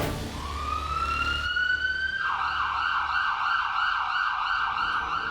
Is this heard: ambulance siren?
yes